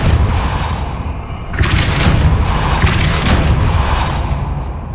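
Depulso spell in a Harry Potter video game, a loud booming blast that bursts in midway and rumbles on with bright crackling flashes over a dense background of game sound.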